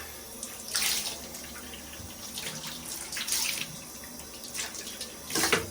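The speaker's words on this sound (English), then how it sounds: "I kind of rinse out the buckets just in case there's any chunks" Tap water runs steadily while plastic buckets are rinsed out, with repeated splashing surges and sloshing as water swirls and is poured from the buckets, close and alone.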